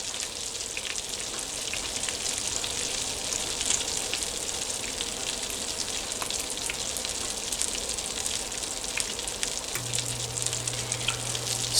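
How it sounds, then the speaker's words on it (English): Lobsters seared skin side down in browned butter with garlic sizzle and crackle steadily in a hot pan, a dense, even frying hiss with no voices. "So to this, we're going to add our lobsters and we're going to start searing."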